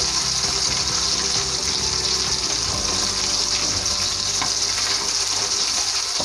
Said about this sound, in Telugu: మన తాగుబోతు చికెన్ అయితే మంచిగా ఏగుతుంది చక్కగా